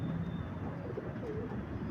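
A pair of caged pigeons give a brief, soft cooing over a constant background hiss, close and faint.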